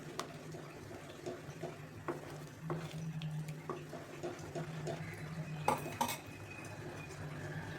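Mango ice cream mixture with cornflour and milk powder being stirred in a metal pot, a steady faint scraping and clinking of a spoon against the pan in a quiet kitchen.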